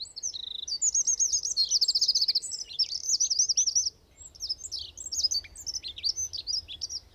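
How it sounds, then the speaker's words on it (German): A chorus of small birds twittering in a high, soft song, rapid chirps and trills repeating in bursts, close and clear against a quiet background, with no voices. "Wenn ein Vogel aber in einem hohen, nicht sehr lauten Ton singt, dann kann man auch sagen, dass er zwitschert."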